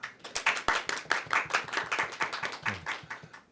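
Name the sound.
audience applause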